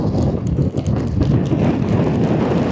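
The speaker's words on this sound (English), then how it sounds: "Just try and keep an eye on this wind." Strong wind roars across a hillside, buffeting the microphone as a steady, loud rush with no break.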